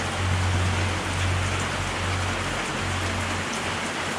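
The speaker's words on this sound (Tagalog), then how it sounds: "Umuulan kasi ante" Steady rain falling outdoors, a dense continuous hiss of drops on surfaces at even loudness, with a low hum underneath and no talking.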